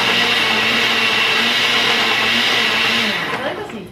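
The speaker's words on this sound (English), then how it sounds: "I'm scared of this blender." Kitchen blender running at full speed with a loud, steady whirring roar that winds down near the end, with voices talking faintly underneath.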